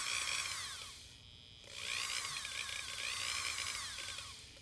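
Dremel rotary tool on a speed control running at low speed, its whine surging and sagging in uneven waves, dipping briefly near the start before rising again, close and fairly quiet, no voices.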